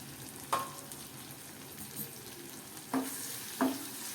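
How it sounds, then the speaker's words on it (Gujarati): Guava curry cooking in a pan, with a steady low sizzle and a few distinct scraping stirs of a spoon through the vegetables, heard alone without any talk. "શાકને આપણે ફેરવીએ"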